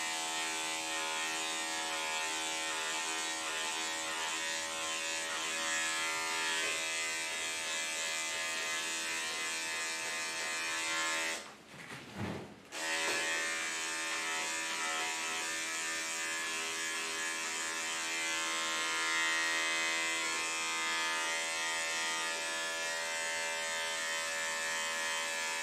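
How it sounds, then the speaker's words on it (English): Andis 5-speed electric clippers fitted with a 10 blade buzz steadily and closely while trimming a Morkie or long-haired dachshund. The loud, constant motor drone dips for a moment partway through, then runs on. "So I'm going to take my 10 blade on my Andis 5-speed"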